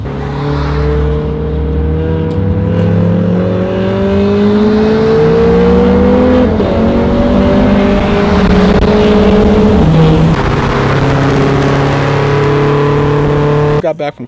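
An Audi RS3 with an APR stage 1 tune accelerates hard at a car show, revving loud and close through rising and falling gears for a sustained run.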